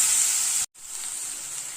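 Boiled tomato paste hits hot oil with spices in a pan, giving a loud, steady sizzle that breaks off briefly and then resumes as frying continues, close and alone.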